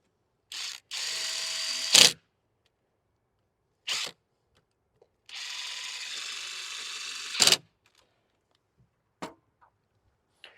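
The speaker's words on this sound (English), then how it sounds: "We're going to run these down with the drill." A power drill whirs in short bursts while driving mounting screws for an outdoor light fixture: two longer runs each ending with a sharp clack as the screw seats, plus brief blips between.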